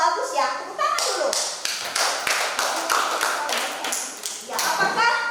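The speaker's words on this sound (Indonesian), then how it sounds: "Tepuk tangan dulu." A classroom group claps for a good question from fellow students, uneven rapid hand claps from several people of varying loudness, with a voice speaking briefly at the start and end.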